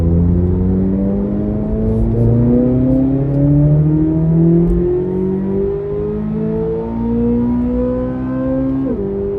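A 2024 Chevrolet Corvette C8 Z06 with an AWE exhaust winds out to about 8,500 RPM in manual mode while driving, a loud, continuous rising engine howl climbing through gears with a brief shift near the end, heard from inside the car.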